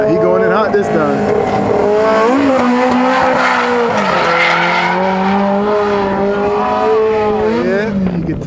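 A drift car slides into a corner with sustained, wavering tire squeal over a roaring engine, loud and continuous throughout, as an onlooker talks over it.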